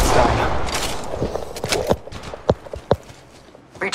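Gunfire in the mobile battle royale game Apex Legends Mobile: a burst of noisy fire at first, then a handful of sharp, separate shots spaced irregularly and fading toward the end.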